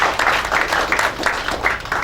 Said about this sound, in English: I think everybody should give him a round of applause